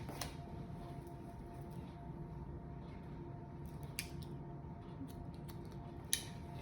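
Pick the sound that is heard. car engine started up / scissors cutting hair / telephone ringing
scissors cutting hair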